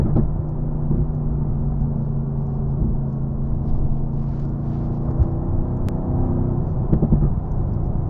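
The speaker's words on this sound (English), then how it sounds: "Let the engine sing to you." A 2018 Mercedes-AMG GT R engine drones from inside the car, a steady low rumble and whir that holds fairly even with slight swells, no talking over it.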